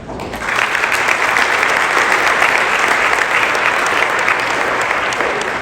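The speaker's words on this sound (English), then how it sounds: "So a huge round of applause to them." A conference audience at an annual policy and budget event bursts into sustained, loud applause that starts abruptly and holds as an even, dense patter of many hands for several seconds.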